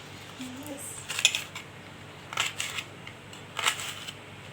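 A knife cutting onions in a home kitchen gives a few sharp taps in small clusters, spaced a second or so apart, fairly close but quiet over a low room hum.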